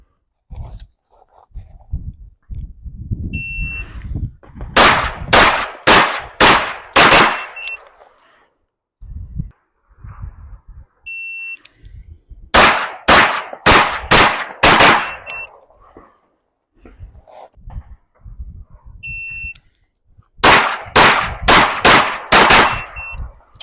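Three rapid strings of pistol shots from a JWC Prodigy Elite during an accelerator drill, each burst of about five or six sharp reports, separated by quieter gaps with faint movement.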